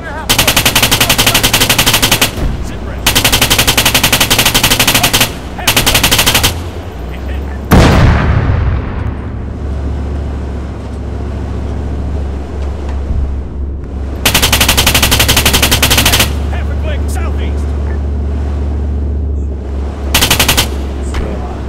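Heavy automatic gunfire in Arma 3 from enemy snipers and a machine gunner, long loud bursts of rapid shots separated by short gaps, with a booming impact and rumbling battlefield noise between them.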